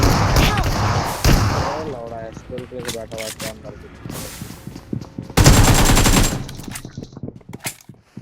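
Automatic gunfire bursts and single shots ring out during a BGMI squad match, with rapid rattling volleys and a long loud burst near the end, while someone talks over the action.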